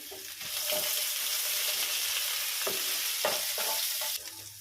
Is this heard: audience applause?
no